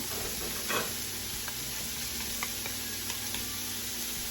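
Onions fry in a pan toward caramelizing, a steady soft sizzle with faint crackles and one brief stirring scrape, close but quiet, with no talk.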